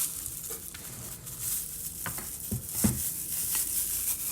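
Olive oil with spices, salt, garlic and ginger sizzles steadily in a pan for a Moroccan-style chicken and potato tagine, with close scraping stirs and soft crackles and no talk.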